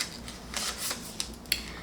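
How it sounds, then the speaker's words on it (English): Scissors snip open a shipping package holding a Monstera Thai Constellation plant, giving a few quiet, separate crisp cuts and rustles. "so I got to use these scissors"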